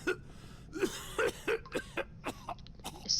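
A character in The Walking Dead video game coughs from smoke in a string of about eight rough, separate hacks, close and fairly loud, with short pauses between them and no talk.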